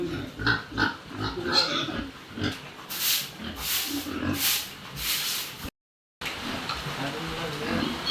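Pigs grunting and snorting nearby, with people talking in the background and a brief dropout near the end.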